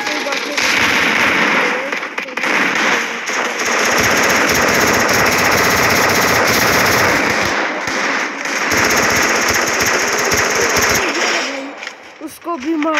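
Rapid automatic gunfire in the video game Free Fire, loud and sustained in long bursts with brief breaks, mixed with game effects while a player talks over it.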